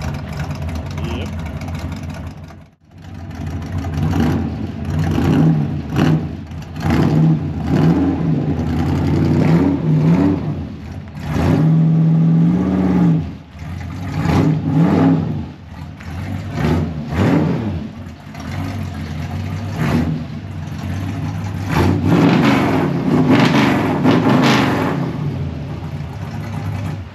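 A classic car's engine revs and runs at length, loud and close, its rumble rising and falling through several throttle blips with a brief dropout early on, while people talk at times over it.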